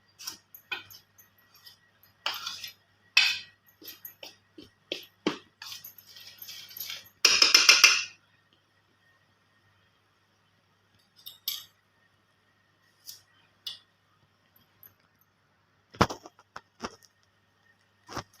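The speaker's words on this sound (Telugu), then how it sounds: "ఒకసారి ఇలా బాగా స్పూన్తో కలుపుకునేసి" A metal spoon clinks and scrapes against a bowl while stirring ghee into flour for dough, coming in scattered bursts of small taps and clatters with quiet gaps between them, close and with no talk.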